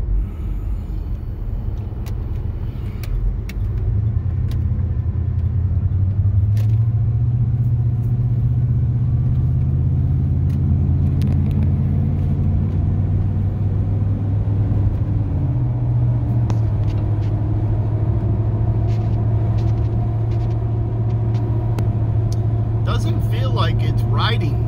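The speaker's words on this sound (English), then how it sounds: "Tires are a little loud, nothing too crazy." Tire road noise from a 1995 Ford F150 pickup on big mud tires, heard from inside the cab as a loud, steady low rumble with shifting engine drone, and talking over it.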